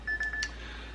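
A Joule sous vide cooker's timer gives a quick run of three or four thin electronic beeps, close by and faint, over a low background hum with no talking.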